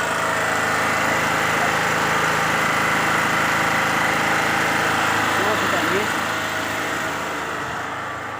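A small engine of a corn sheller runs steadily with a buzzing, vibrating drone, holding a constant pitch before gradually fading slightly toward the end.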